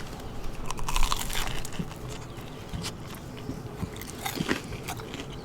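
Close, crunchy chewing and biting on a mouthful of smoked pulled pork with a zesty, spicy dipping sauce, soft irregular bites and crackles over a faint room background, with no talking.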